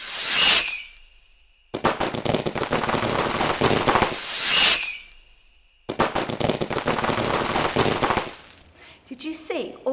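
Loud bursts of fireworks crackling in rapid machine-gun-like volleys, two long rattling barrages each preceded by a sharp whistling launch, close and intense.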